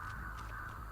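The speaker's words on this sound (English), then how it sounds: "we didn't hear the birds fly off." Crows cawing as they take flight in Dead by Daylight, short harsh calls repeating over a steady droning background, fairly faint and brief.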